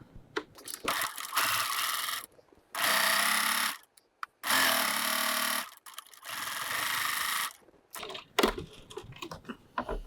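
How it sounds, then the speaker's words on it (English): A sewing machine stitches a 3/8 inch (1 cm) seam on a fabric pouch at stitch length 2.4, running in four close, steady bursts separated by short pauses, with small handling clicks between them. "stitching using a 3/8 of 1 centimetre 3/8 of an inch or 1 centimetre seam"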